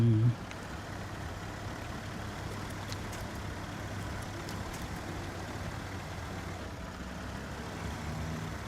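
A truck engine in an off-road mudding and climbing video game holds a steady, low rumble throughout, fairly quiet and with no other sounds over it.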